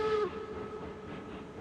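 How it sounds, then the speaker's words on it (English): A steam locomotive whistle sounds briefly in a train simulator game, a short loud tonal blast cut off quickly, followed by a soft steady hiss. "This is the whistle."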